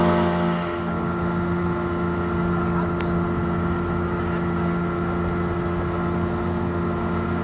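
Boat running on twin engines at sea off Malvan in Konkan, a steady, loud low drone with wind rushing across the microphone, continuous for the whole stretch.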